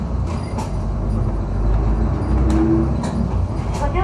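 A city bus in Fukutsu, Japan rumbles as it pulls away from a stop, with a low engine drone, brief air-brake hiss and faint chimes under quiet announcements.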